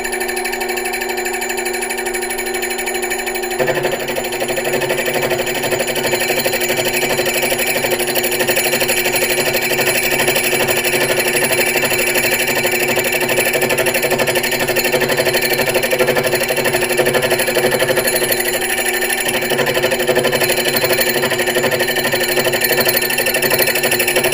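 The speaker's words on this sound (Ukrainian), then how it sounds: "Так, запускаємо станочок." A small Chinese lathe runs steadily while cutting a thread on a shaft, giving a loud continuous mechanical whir with a rapid rhythmic chatter from the cut throughout.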